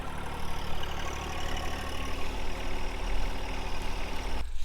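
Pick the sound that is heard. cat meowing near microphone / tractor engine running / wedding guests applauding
tractor engine running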